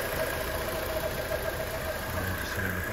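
A Fiat Punto GBT 1.4 engine idles steadily in the engine bay, a constant low hum with a faint high whine running throughout, even and unbroken.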